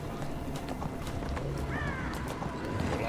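Horse mount in the Neverwinter video game, steady rapid clip-clop of galloping hooves over game background noise, moderately loud, with a brief whinny-like tone partway through.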